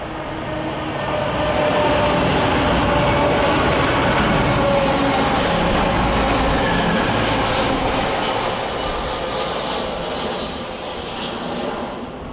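A CrossCountry passenger train runs through Heald Green station in a steady, loud roar of wheels and engine that holds for about twelve seconds, carrying faint rail squeals and a soft clatter before it eases off slightly at the end.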